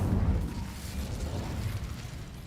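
A fiery Incendio spell cast in the Hogwarts Legacy video game gives a dense rumbling whoosh with burst-like crackle. The sound holds steady and loud throughout, without speech.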